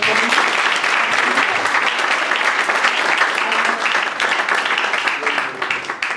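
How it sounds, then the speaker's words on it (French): An audience at a church youth gathering applauds steadily, with dense, loud clapping that continues throughout and fades slightly near the end. "Mon frère, est-ce qu'on peut acclamer pour lui?"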